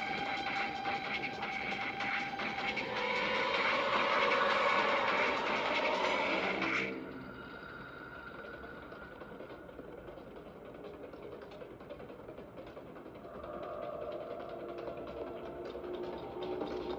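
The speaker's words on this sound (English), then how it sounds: "Train should be here shortly." A train arrives in the video game Project Playtime with loud rumbling clatter and a grinding whine that cuts off abruptly. A quieter mechanical hum and hiss continue afterward.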